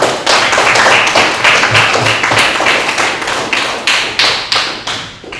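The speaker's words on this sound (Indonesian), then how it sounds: "beri tepuk tangan untuk kita semua dulu ya" A classroom of students claps together, a dense steady patter of many hands that slowly thins out toward the end.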